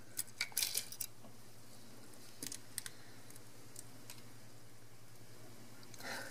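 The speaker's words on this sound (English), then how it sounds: "With the three screws out, we can just lift that board right off." A circuit board is lifted free from a disassembled Canon 6D camera, giving a few light clicks and small metallic clatters near the start and again around the middle, faint and close against a quiet background hum.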